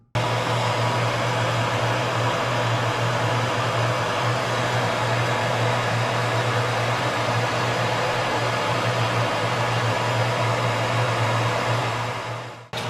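A heat tool plastic-welds parts together on an adventure bike build, its steady, loud hot-air blowing roar running unbroken with a low hum underneath until it cuts off at the very end.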